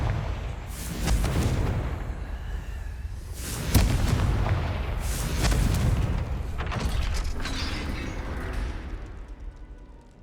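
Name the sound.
Confringo fire spell explosion in a Harry Potter video game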